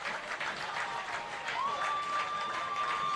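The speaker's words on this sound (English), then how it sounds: "And you get to hear this crowd, which is right in front of us." Football crowd in the stands at a Rockwood at Kingston high school game, a steady roar of applause and cheering close by, with a sustained whistle-like tone entering midway.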